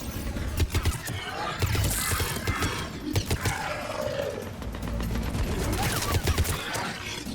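Mass Effect 3 firefight with dense, loud bursts of gunfire and impacts layered over a rumbling battle din, continuous and chaotic for the whole stretch.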